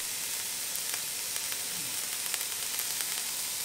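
Seasoned meat sautéing in a pan with salt, pepper, herbes de Provence and garlic powder, giving a steady soft sizzle with faint stirring ticks, fairly quiet and without talk.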